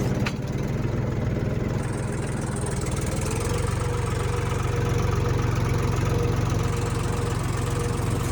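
A tractor engine running steadily while working a farm field, a continuous loud low rumble with a constant throb and no letup.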